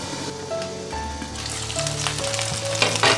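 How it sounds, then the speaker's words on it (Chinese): Chicken thighs pan-fry under a lid over low heat, a dense, steady sizzle and crackle close up, with a few faint clinks and no talk. "全部放进之后，我们盖上锅盖，给它小火慢煎。"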